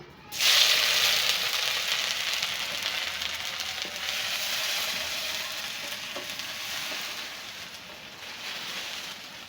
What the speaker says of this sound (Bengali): রসুন ভাজা ভাজা হয়ে গেছে